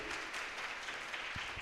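A congregation at a Christian satsang gathering claps for a family, a soft, even patter of many hands heard from a distance, steady throughout.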